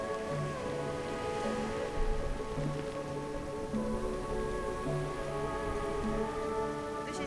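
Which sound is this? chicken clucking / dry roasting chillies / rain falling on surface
rain falling on surface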